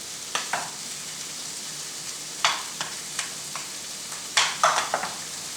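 Beans in a pan for meatless burritos get stirred, several short scraping clatters of a spoon over a quiet low sizzle, close and fairly soft.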